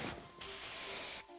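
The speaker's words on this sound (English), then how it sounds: "One spray to victory, Fluffy Tail Hairspray" Fluffy Tail Hairspray sprayed in the video game Neverness to Everness: a short, soft hiss followed by a longer, steady, louder spray of about a second, with no voices.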